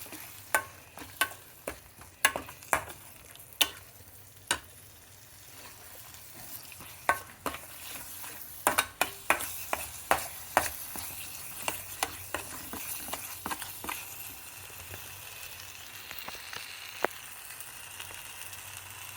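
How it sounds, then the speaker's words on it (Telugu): Paneer tikka masala fries quietly in a pan under a low sizzle, while a spoon scrapes and taps against the vessel in a long run of sharp irregular clicks that thin out toward the end. "వేగాలి ఇది బాగా"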